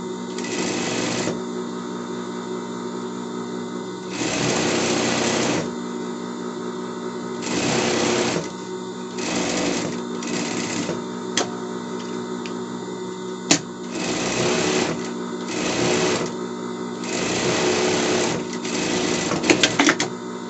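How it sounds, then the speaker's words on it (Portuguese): A sewing machine stitches a safety seam on a pet dress in loud, repeated bursts of rapid mechanical whirring separated by short pauses, with a few small clicks between runs. "Vamos pré-espontar e passar uma costura de segurança embaixo"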